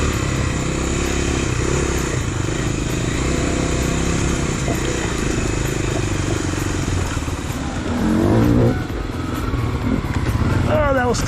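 Kawasaki KLX dual sport motorcycle riding tight single track, its engine droning steadily with revs rising and falling, chassis clatter and a louder burst near the end, talk running over the engine noise.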